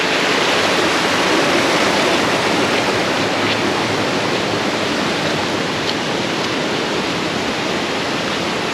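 A waterfall in Koh Samui gushes in a dense, continuous roar of rushing water, steady and loud throughout with no voices.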